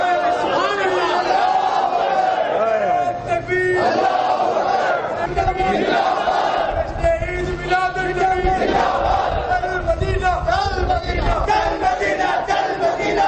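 A large crowd at a meelad un nabi religious gathering chants slogans in loud, rhythmic unison, voices surging together continuously and close.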